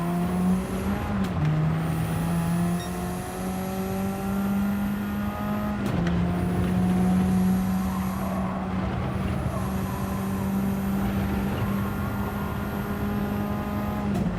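Race cars in Gran Turismo 7 during lobby racing, a loud engine drone rising steadily through the gears, cut off twice by sudden drops as the car brakes and downshifts, with no voices.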